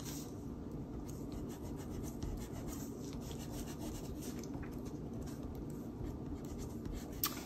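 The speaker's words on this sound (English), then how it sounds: "Go ahead and erase the lines that you don't want." A pencil eraser rubs steadily across paper, making a quiet, continuous scratchy scrubbing that goes on without pause.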